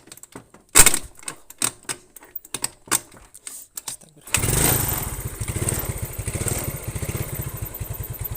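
A carburetted Yamaha Mio scooter engine being cranked with a few short bursts, then catching and running at a steady idle with rapid, even firing pulses, close and fairly loud.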